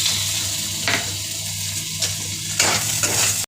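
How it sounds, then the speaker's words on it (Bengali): Spice paste with chilli powder and chopped tomato sautéing in fish oil, a loud continuous close sizzle with a few sharper stirring scrapes and clinks of a spoon against the pan. "মশলাটা ভালো করে কষানো হয়ে গেছে কুচিয়ে রাখা টমেটোটা দিয়ে দেবো"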